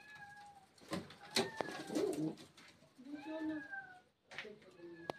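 Uzbek pigeons coo in soft, low, rolling calls mixed with higher chirping and mewing cries, close by in a loft, while someone talks intermittently over the birds.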